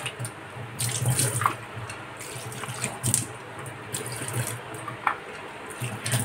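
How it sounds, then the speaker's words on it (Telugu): Tap water runs steadily into a kitchen sink while fish is rinsed for a dry fish curry, with a continuous close splashing stream and occasional brief clinks and louder splashes. "వాష్ చేసుకోవాలి బాగా."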